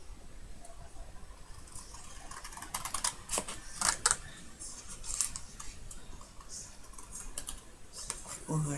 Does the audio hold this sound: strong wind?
no